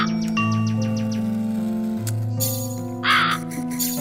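A crow cawing in a video game, harsh raspy calls among synthetic game tones and a ticking pattern, close and fairly loud.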